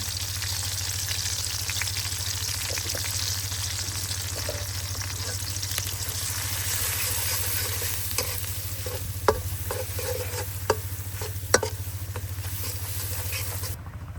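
Chopped onions fry and sizzle steadily in a pot at an outdoor riverside cooking spot in the Sundarbans, with occasional stirring clacks and knocks over a constant low boat-engine hum.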